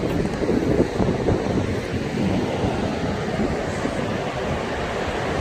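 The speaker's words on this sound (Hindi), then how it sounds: "तेज बहाव के साथ यहाँ से काली गंडकी नदी बह रही है।" The Kali Gandaki, a cold, fast-flowing Nepali river, sounds like a steady, loud broadband rush of water close to the bank, with continuous turbulence and no talk over it.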